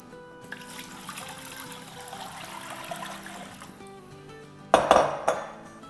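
Water poured into a cooking pot of mutton for biryani stock, preceded by soft clinks of cookware, then a sudden splashing gush near the end, close and fairly loud.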